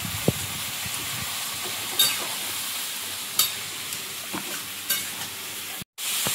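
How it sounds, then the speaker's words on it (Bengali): Taro fries in a pan while being stirred: a steady low sizzle broken by several sharp scraping clinks at irregular intervals, with no voices. "এদিকে কচুটা ভালো লাল লাল ভাজা হয়ে গেছে"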